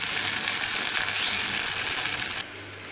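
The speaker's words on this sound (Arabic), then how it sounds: "وهون البصل عم قليهم" Onions fry in a pan with a bright, steady hiss and crackle that holds for over two seconds, then cuts off sharply to a quieter background.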